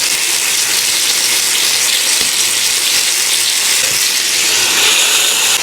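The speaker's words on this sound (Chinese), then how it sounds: "上面来点油，因为这个是两面煎的" Pork belly and chicken wings frying in oil on a griddle at home, a loud, steady sizzle and hiss that runs unbroken throughout, with no talking.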